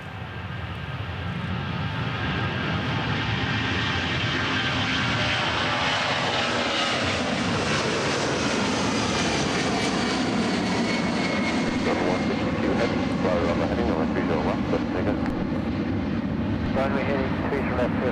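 A Delta airliner takes off from runway 30 right at Minneapolis–Saint Paul airport, its engines a loud, steady roar that builds and holds for the whole stretch while faint radio chatter sits beneath.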